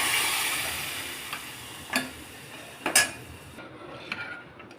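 Spices crackling in hot oil for a tempering of mustard seeds, cumin, curry leaves, turmeric and asafoetida for plain yellow dal, a fading hiss punctuated by a few sharp utensil clinks.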